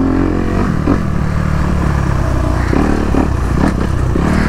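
A Honda CRF250RX motocross motorcycle engine drones and revs continuously at close range while riding, with occasional clattering and scraping, and no talking.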